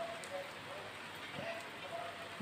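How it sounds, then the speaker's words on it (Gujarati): Rain keeps falling steadily around a home courtyard, a soft continuous patter of drops on surfaces, fairly faint and even throughout. "વરસાદ પણ હજી ચાલુ જ છે"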